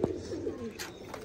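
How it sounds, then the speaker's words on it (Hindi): A pet pigeon of the Heera Lal breed gives a short, low, throaty coo up close, with faint background noise. "ये जो है हीरा लाल कबूतर है, ये दिलावर खान साहब वाली नस्ल जो है ये उनमे"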